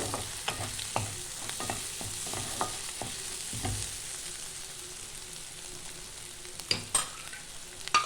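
An egg fries in a pan and is turned with a spatula for a dhaba-style egg tarka, giving a steady low sizzle with repeated scraping and stirring clicks and a couple of louder knocks near the end.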